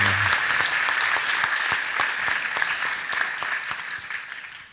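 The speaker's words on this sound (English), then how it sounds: "Let's start by a big round of applause." Big round of applause from an audience for children of a Krishna Club at a Gita Jayanti gathering, dense steady clapping throughout that fades slightly toward the end.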